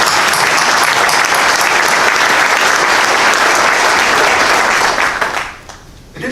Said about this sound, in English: Quite frankly, I think it deserves a round of applause.